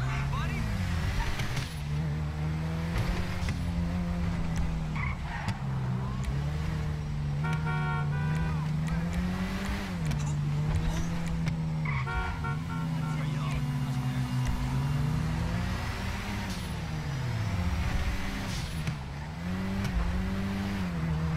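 Car engine in GTA 5 street driving, a steady droning hum with rising and falling pitch as it revs, under loud continuous background game sound and music and some talk.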